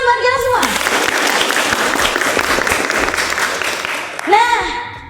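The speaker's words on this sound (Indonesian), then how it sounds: "Oke, tepuk tangan buat kita semua." A classroom of students bursts into applause, dense clapping filling several seconds between a teacher's speech at the start and end.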